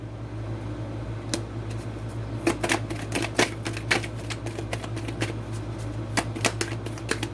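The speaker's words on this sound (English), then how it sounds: "real quick while I'm shuffling these cards" Playing cards are shuffled close by, a series of quick crisp riffles and snaps at an uneven rhythm over a low steady hum.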